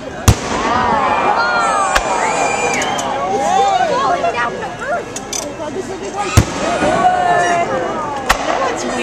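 Fireworks bursting over Prospect Park in 2010, sharp loud bangs at irregular intervals amid a continuous crackling and whistling display, with a crowd murmuring and people talking throughout.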